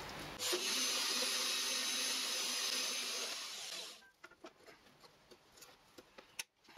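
A power saw cuts steadily through metal stock for a homemade V block, a loud continuous whine lasting about four seconds before stopping, followed by quieter scattered clicks and handling noises.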